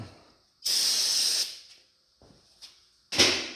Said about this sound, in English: I'm going to take my rag and I'm going to spray some brake clean on it